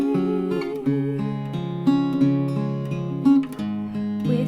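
Fingerpicked acoustic guitar plays the chorus of a song, a close, clean line of plucked notes and shifting chords moving steadily with no voice.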